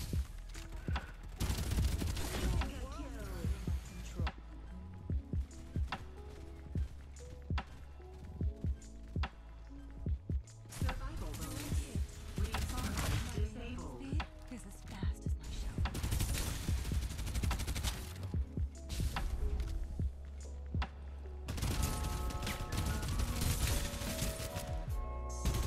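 Gunfire in the battle royale game Farlight 84 comes as repeated bursts of rapid shots spread across the stretch, fairly loud and close, with a voice talking at times between them.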